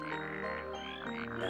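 Frogs and toads croak together in a steady, close, continuous chorus of throaty, buzzing calls with no gaps and no voices.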